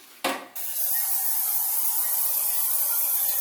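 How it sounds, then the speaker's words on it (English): A short burst, then a continuous hissing aerosol butter release spray onto old muffin pans, held steadily at close range, with no voices. "So I'm going to go ahead and spray these with butter spray release."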